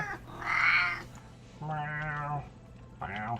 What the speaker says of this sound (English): Thank you for the cat noise, Beast Rabbit.